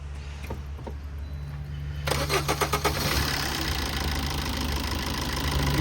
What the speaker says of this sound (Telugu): సార్ ఇంజన్ స్టార్ట్ చేయరా